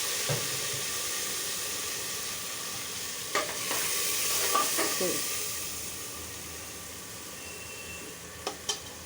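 A spice paste of turmeric, chili, coriander powder, ginger-garlic paste, onion, green chili and bay leaf sautés in oil for mung dal, giving a soft hiss and sizzle with a few sharp scraping clicks from stirring and no voices.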